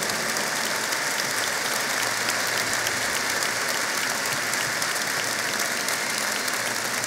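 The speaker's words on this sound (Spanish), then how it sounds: "Yo quiero aquí que me ayuden a darle un fuerte aplauso a mi esposa Ivette porque ella lo hizo posible." A large crowd at a government annual report ceremony gives loud, sustained applause, a dense continuous roar of clapping that holds steady from start to finish with no speech.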